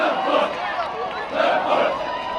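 Parents, family members and friends lining the streets cheer for Marines running in formation on the Moat Run at Parris Island, a dense wash of crowd shouting and voices in waves.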